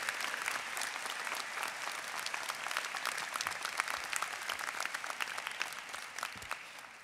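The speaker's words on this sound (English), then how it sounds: "So please give Professor Cobble one last final round of applause." Sustained audience applause at a law school commencement ceremony, a dense, steady wash of many hands clapping that holds at an even level throughout, with no voices on top.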